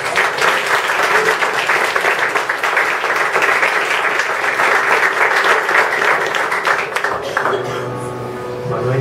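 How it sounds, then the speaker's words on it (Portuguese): An evangelical church congregation claps together in praise, a loud, sustained wash of applause lasting several seconds before thinning out and fading toward the end as faint tonal sound emerges. "Te celebramos com palmas em nome de Jesus"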